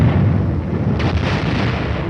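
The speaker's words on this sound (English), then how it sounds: "The air bursts fired by a battalion of 105mm howitzers present a lively show." Air bursts from a battalion of 105mm howitzers in an old US Army film: a loud, rumbling barrage of deep booms rolling together, with a sharper crack about midway through and no voices.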